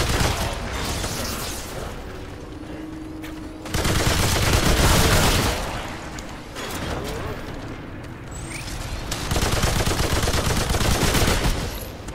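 Enemy gunfire in the video game Remnant 2: heavy bursts of rapid shots in two loud volleys separated by quieter stretches, with mechanical clatter between them.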